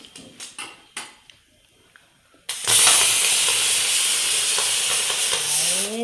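A pressure cooker on the stove, boiling brinjal, goes from quiet clicks and taps into a sudden loud, steady rush of hissing steam that holds strong to the end, with a rising whistle tone near the close.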